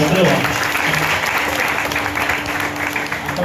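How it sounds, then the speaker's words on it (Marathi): An audience at an annual devotional music programme claps steadily and densely, a loud sustained round of applause filling the whole moment with a faint crowd murmur underneath. "सगळ्यांनी एकदा टाळ्या वाजवा असं म्हटलं."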